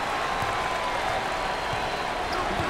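A crowd at an NCAA college basketball game between Grambling State and Florida, with the student section giving off a steady wash of cheering and applause that holds loud and continuous, along with a few faint ball bounces.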